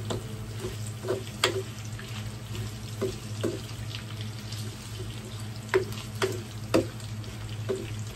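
Something fries in a pan, a continuous low sizzle with scattered sharp pops and clinks of stirring over a steady hum, nearby and moderately quiet, without speech.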